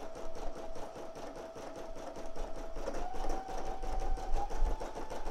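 A Brother PE800 embroidery machine stitching out a design, with a steady fast needle rhythm and a soft mechanical whir at moderate, close range and no talking.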